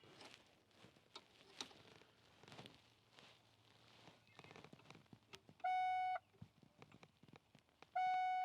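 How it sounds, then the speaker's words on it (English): A Ford pickup truck's warning beeper sounds twice, each a loud steady electronic tone lasting about half a second, following soft scattered clicks and rustling of work on the truck. "That's my beeper thinger."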